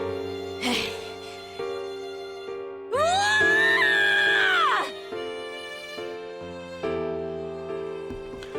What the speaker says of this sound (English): Carl lets out an animalistic scream filled with rage and despair